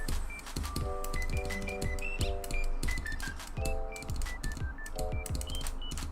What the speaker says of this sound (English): I could also take the keycap off. So the clicks are gonna sound like this now.